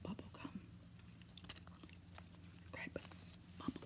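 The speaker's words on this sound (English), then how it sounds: "Here's a gum I'm chewing today, by the way. Big League Chew Bubble Gum." Grape Big League Chew bubble gum being chewed up close, with soft wet smacks and clicks at an irregular rhythm, quiet and intimate, alongside faint breathy whispering.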